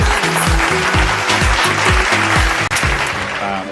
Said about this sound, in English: Let's give a big round of applause to the team behind this memorable event.